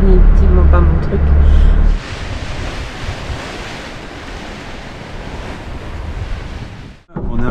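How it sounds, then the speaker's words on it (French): Strong wind roars over rough, churning open Pacific Ocean waves heard from a sailing boat, a constant loud rush of surf and gusts, with louder, nearer buffeting at the start. "il y a le vent, c'est cool, mais il y a la mer aussi qui bouge"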